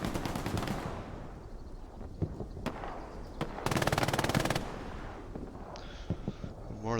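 Machine gun fire in a World War II–style multiplayer shooter game, with scattered single shots and then a sustained rapid burst of automatic fire at moderate distance, plus a few other game sounds.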